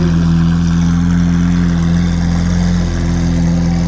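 A car engine with straight pipe exhaust and no turbos runs close by, a loud steady droning hum that holds its pitch throughout, with no speech.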